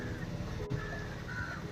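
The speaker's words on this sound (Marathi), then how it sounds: "पक्ष्यांचा किलबिलाट" Distant birds call and chirp in a Kerala mangrove forest over a steady low background hum, with a few thin tonal calls rising above it.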